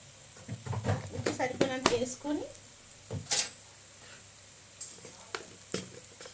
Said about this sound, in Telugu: కొంచెం వేగుతున్నాయి కదా బాగా